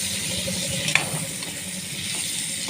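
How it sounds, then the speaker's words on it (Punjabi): Potatoes roast in masala in a pan with a moderate, steady sizzle, plus a few spatula scrapes and one sharp clink of metal near the middle. Nobody speaks. "ਇਧਰ ਆਪਾਂ ਆਲੂ ਭੁੰਨੀ ਜਾਂਦੇ ਆ"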